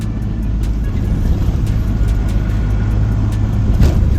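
Steady low rumble of a passing vehicle's engine and road noise on a highway, close and fairly loud, holding constant for a few seconds.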